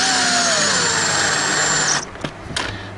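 A power drill drives a screw for a deadbolt latch: a loud, steady whirring motor with a pitch that slowly drops under load for two seconds, then stops, followed by a couple of short clicks and handling knocks.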